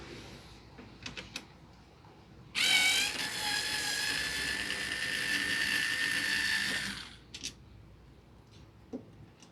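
A sustained mechanical whirring of a power screwdriver removing Phillips screws from the back cover of a DeLonghi Perfecta espresso machine, running a few seconds outdoors on a balcony, with faint background noise before and after.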